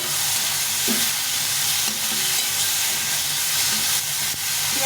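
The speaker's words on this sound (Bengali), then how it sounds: "পেঁয়াজটা দিয়ে দেবো পেঁয়াজটা আগে ভেজে নেবো না এখন ভেজে নেবো একটু অল্প করে ভেজে নেবো" Chopped onion frying in a pan for a home-cooked egg fried rice dish, a steady dense sizzle held at constant loudness throughout, with a few faint stirring clicks and no talk.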